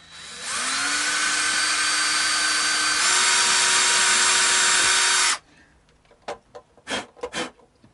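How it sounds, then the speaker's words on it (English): A loud power drill whines steadily for about five seconds while drilling into the body of a Harley Benton VT series Strat-style guitar, its pitch stepping up midway, then stops, followed by a few short knocks and scrapes. "we could drill the next one straight in there"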